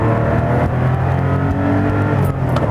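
A 1989 Porsche 911 Carrera accelerates hard in second gear from about 20 mph, its engine a loud, close, rising rumble with strong steady harmonics and no voices.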